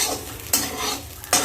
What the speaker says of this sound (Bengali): খালি কড়াইয়ে নারকেলটাকে ভেজে নিলাম।